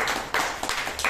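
Audience clapping loudly in praise of God at a Telugu Christian gathering, several bursts of applause arriving in quick uneven waves over about a second.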